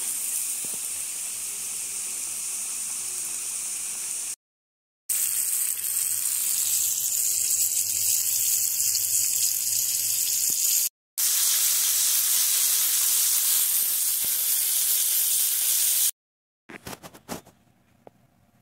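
Chicken strips hiss and sizzle steadily in very hot oil for fried strips, a loud, dense frying roar broken by short silent cuts, with a few crackling pops near the end.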